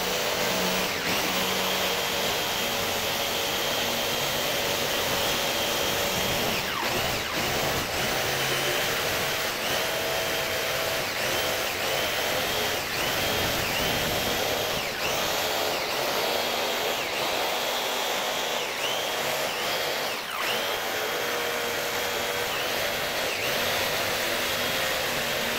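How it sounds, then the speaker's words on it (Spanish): A small plastic board being cut for a homemade lamp base and lid, a steady loud whirring tool noise running throughout with no pauses. "Vamos a cortar nuestra tablita de plástico"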